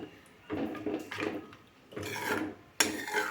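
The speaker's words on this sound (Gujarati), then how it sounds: "આ રીતે દહીંને એકદમ સરસ રીતે મિક્સ કરી લેવાનું છે" Curd for Kathiyawadi dahi tikhari is stirred in a bowl, a few separate scraping and clinking strokes of a spoon against the vessel, close and fairly quiet, with short pauses between them.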